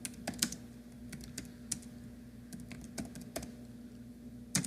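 Keys clatter on a computer keyboard as REST API code is typed, a steady run of close, crisp clicks with small pauses and a low electrical hum underneath.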